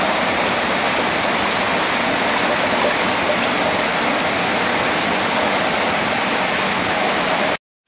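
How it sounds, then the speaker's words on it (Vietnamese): Heavy rain pours down in a steady, loud, unbroken hiss of water with no pauses, no voices, and an abrupt cut at the very end. "Mưa lớn lắm nha."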